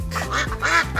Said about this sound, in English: It's a duck.